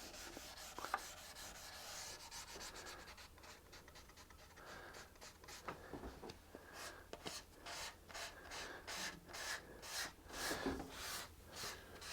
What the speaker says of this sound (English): with some 400 grit sandpaper, I'm very carefully cleaning up the flamed maple